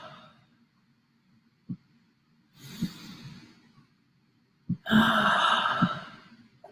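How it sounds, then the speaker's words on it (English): Slow deep breaths taken during a meditation session, several audible inhales and long sighing exhales, close and soft, with brief small knocks between them and no talk. "Taking 3 deep breaths."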